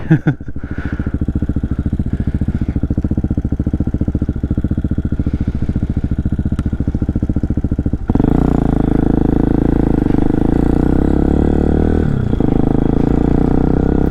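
Hawk DLX motorcycle ridden with a bent clutch lever, its engine a loud steady drone with rapid rhythmic pulsing throughout, shifting in tone partway as gears or throttle change, with no talk over it.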